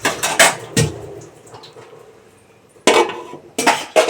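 A lid set on a cooking pan of fish: sharp clattering metal knocks near the start, a quiet gap, then more clanks toward the end, close and loud.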